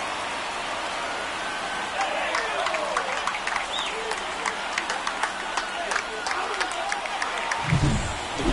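Home crowd at a San Francisco Giants ballpark in a baseball video game cheers after a home run against the San Diego Padres, a steady broad roar with scattered claps and whistles throughout.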